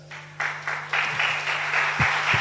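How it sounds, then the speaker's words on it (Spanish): Applause swells in steps into a steady wash of clapping from a church congregation, with a low hum running underneath. "Yo pensé que te iba a dar un aplauso."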